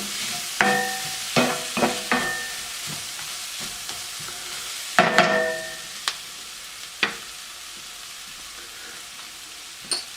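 Tomato paste being stirred into frying onions, celery and garlic for Swiss steak: scattered sharp scrapes and taps of a utensil against the pan over a soft, low sizzle, with quiet gaps between strokes.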